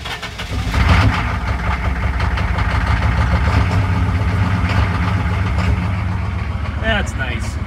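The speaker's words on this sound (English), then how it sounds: "let's start with a cold start" A 6.5 diesel truck engine cold-starts, cranking and catching, then settles into a loud, steady, rumbling idle close by, with a brief squeak near the end.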